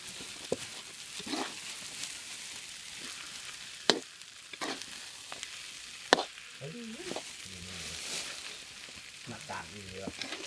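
Food sizzles in a hot wok while stir-frying pork fried rice with kale, as a utensil scrapes and clanks against the metal in irregular strokes, with a voice speaking briefly at times.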